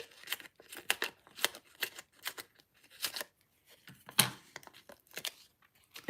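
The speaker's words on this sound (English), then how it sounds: "let me just cut these edges here" Scissors snip along the edges of a paper card in a safari celebration craft, a series of short crisp cuts and rustles with quiet pauses between, close and fairly soft.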